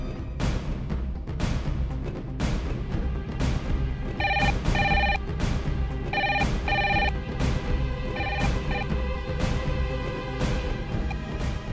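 A telephone bell rings in repeated bursts of bright, trilling double rings, loud and near, over a dull background of thumps and low noise in an indoor scene from a dubbed TV drama.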